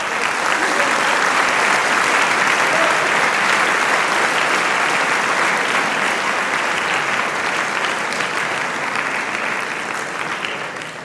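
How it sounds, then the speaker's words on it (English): Sustained applause from a school audience at a silver jubilee celebration, dense and loud throughout, tapering slightly toward the end. "I think he deserves a round of applause for that."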